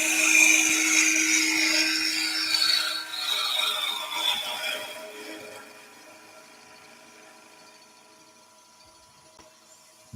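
A bowl gouge cuts a wooden gonk spinning on a lathe, giving a sustained whining, scraping tone that is loud at first, then fades to a quieter hum as the cut eases off.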